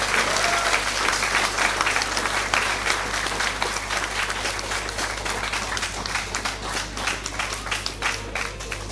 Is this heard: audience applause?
yes